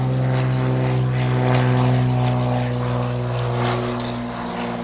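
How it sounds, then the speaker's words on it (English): Light propeller-driven aircraft flying at the IWM Duxford flying day airshow, a loud steady engine drone with strong harmonic hum that swells and eases slightly as it passes, no talk over it. "Light aircraft going off, I'll just let that go."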